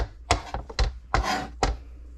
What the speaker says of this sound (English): take a handful and kind of rock our knife back and forth with the broccoli